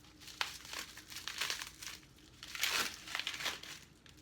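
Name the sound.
unwrapping almond butter packaging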